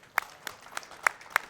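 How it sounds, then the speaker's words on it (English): One person slowly clapping for a pool shot, five distinct, evenly spaced claps close by against a quiet room. "I'll clap for that shot"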